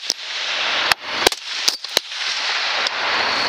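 Gunshots ring out during a hog hunt in Tensas: about half a dozen sharp, loud cracks in an uneven burst, some in quick pairs, over a steady outdoor hiss with no talk.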